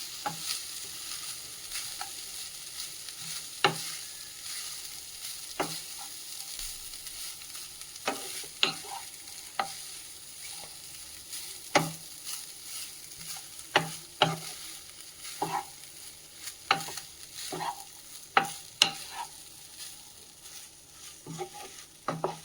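Masala being stirred into cooked matta rice in a pan to dry off moisture, with a soft continuous sizzle and repeated sharp spoon scrapes and taps at an irregular rhythm, close and alone.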